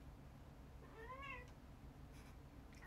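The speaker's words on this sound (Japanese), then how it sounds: "猫来た。" A house cat meows once, a short rising-and-falling call at middle distance, over a steady background hum in an indoor room.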